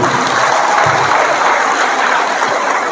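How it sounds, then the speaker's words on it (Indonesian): Audience applause for young people at an Indonesian religious talk, a steady dense patter of many hands clapping filling the whole stretch at moderate loudness, with no voices over it. "Tepuk tangan dulu buat anak muda."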